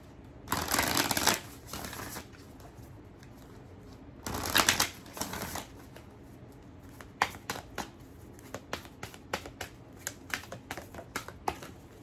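Unicorn oracle cards are shuffled in two quick riffling bursts, followed by softer scattered taps and flicks of the cards being handled, close and fairly quiet.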